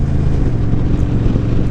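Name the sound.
Honda Rebel 1100 DCT motorcycle stock exhaust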